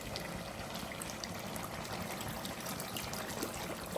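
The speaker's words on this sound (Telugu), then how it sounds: "ఇప్పుడు తగినంత వాటర్ వేసేసుకుందాం" Water pours steadily into a cooking pot of horse gram chicken curry in a continuous trickling, splashing stream, fairly faint and close, with no talking.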